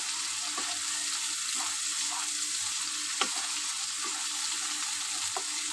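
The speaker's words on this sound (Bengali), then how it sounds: "আমার মশলাটা বেশ ভালো করে কষা হচ্ছে, প্রায় তেল ছাড়ছে।" Spice masala fries in oil in a pan, a steady close sizzle with occasional soft stirring scrapes and small pops throughout.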